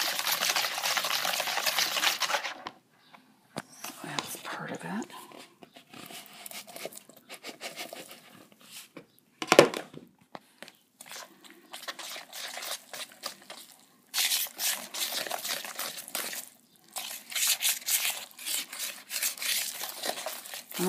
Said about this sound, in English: I'm using this big whisk so that it doesn't stick in there and I can't get it out